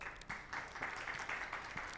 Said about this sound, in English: indulge me in a round of applause for them as well